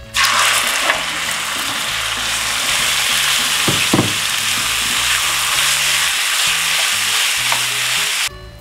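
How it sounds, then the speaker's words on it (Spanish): Beef steak sizzling loudly in hot oil in a frying pan, a steady dense crackle throughout with a couple of brief clatters partway, stopping abruptly at the end. "ahora aquí ya tengo una sartén con aceite y ya voy a poner a freír el bistec que partimos al principio"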